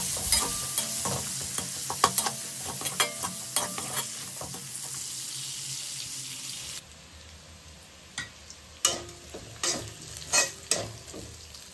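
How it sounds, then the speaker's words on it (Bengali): Onions frying in a pan until reddish-brown, with steady sizzling and repeated spoon-stirring scrapes and knocks, the sizzle quieter in the second half while the stirring clatter continues close by. "পেঁয়াজটা আমি লাল করে ভেজে নেব"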